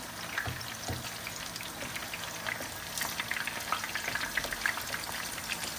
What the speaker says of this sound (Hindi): ऑयल हो गया जी गरम। अब इसमें हम डालते हैं फिश।